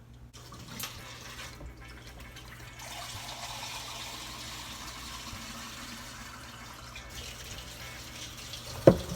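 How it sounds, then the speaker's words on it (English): Kitchen tap left running while bread dough is being made, a steady, fairly quiet hiss of flowing water that continues unbroken in the background, ending with a brief sharp clunk near the end. "You'll notice I still have my water running in the background"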